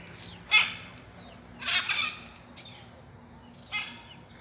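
Macaws and other birds arriving to feed outdoors, giving three loud harsh squawking calls spaced a second or two apart over a faint steady background.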